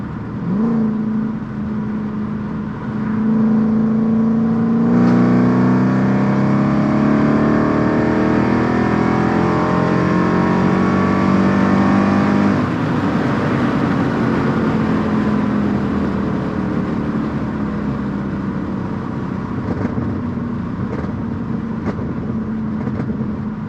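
A Mercedes C55 AMG with straight-pipe exhaust, Kleemann headers and valved mufflers pulls hard through third gear, its engine note rising steadily and loud from inside the car, then easing off as the run ends.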